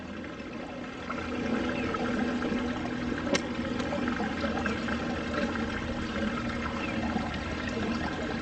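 Steady running water pours and trickles continuously, with small splashes of something being swished and rinsed in it.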